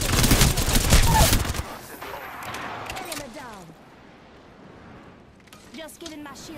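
Loud bursts of gunfire and a blast open a fight in the battle-royale game Apex Legends, with a frag grenade thrown, then the shooting tapers to quieter scattered shots and game effects.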